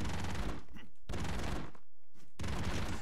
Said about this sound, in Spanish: La metralleta, que es que claro, como son tres, disparan tres.